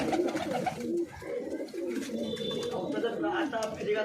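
Pigeons coo in low, throaty repeated phrases close by, mixed with bird chatter and background voices throughout.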